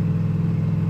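A Jeep's mid-pitched engine hums steadily and loudly up close, with a brief dip near the end as it downshifts.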